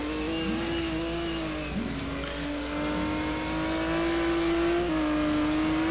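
Race car at Road America launching into a hot lap, engine note held steady then dipping and climbing through gear changes, a close onboard drone with faint tire noise.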